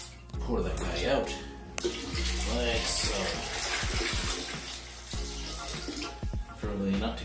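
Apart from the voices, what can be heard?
waste being poured out of a Dometic portable toilet tank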